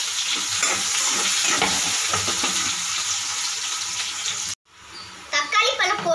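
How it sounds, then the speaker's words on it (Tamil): Onions and curry leaves sautéing in oil, a close, steady sizzle with soft stirring scrapes that cuts off abruptly, followed by a short spell of clattering, splashy kitchen sounds. "வெங்காயம் நல்லா வதங்கிடுச்சு."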